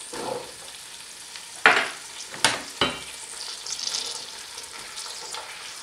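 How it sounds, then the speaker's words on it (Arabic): Dried meat (qadid) and onion fry in a pot with a soft steady sizzle, broken by a few louder sharp clatters and stirring scrapes, close and fairly quiet. "ونخليه هكا القديد يتقلى شويه مع البصل حتى يسيب الطعم نتاعو"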